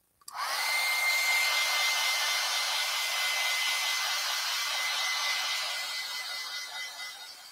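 A hair dryer blasts loud and steady for several seconds, drying acrylic paint on a flower painting, trailing off slightly at the end.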